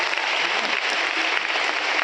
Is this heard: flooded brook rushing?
no